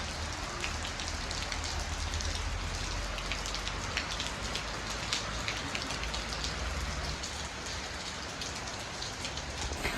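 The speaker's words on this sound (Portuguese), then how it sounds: "E vem chuva aí de novo." Steady rain falls continuously, a dense, even hiss of drops with faint patters on a surface, and no voices.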